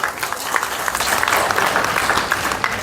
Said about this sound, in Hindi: पहले तो इस डिसीजन के लिए आप सब लोगों ने एक बार तालियां बजा दीजिए।